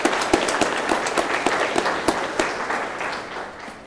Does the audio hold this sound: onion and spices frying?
no